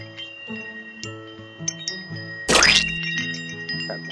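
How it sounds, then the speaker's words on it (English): Gaudy wind chimes in the adventure game The Ballad of Reemus ring out as a sequence of clear, sustained metallic tones, with a brief rustling burst partway through, all fairly loud and with no speech. "I'm sure she won't miss these gaudy wind chimes."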